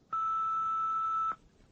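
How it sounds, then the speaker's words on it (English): A single steady electronic tone from an answering machine, just over a second long, clean and sustained before cutting off into quiet hiss. "Please speak after the bleep."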